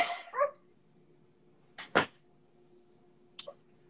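Dogs bark in a few short separate bursts, a sharp yelp first, then a double bark midway and a smaller bark near the end, set against a quiet room.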